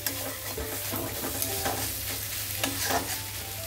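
Chickpea curry stirred in a pan: repeated scraping strokes of a spoon over a low, continuous sizzle, close and fairly loud, with no voices.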